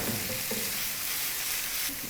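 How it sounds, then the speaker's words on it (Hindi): Minced meat frying with onions in a pan gives a steady, even sizzle with faint stirring scrapes, moderately quiet and with no voices. "कीमे को हम प्याज के साथ भून लेंगे।"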